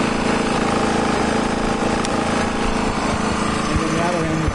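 A small portable generator supplying 240-volt power to a van runs loud and steady close by, a continuous buzzing engine drone with no change in pitch.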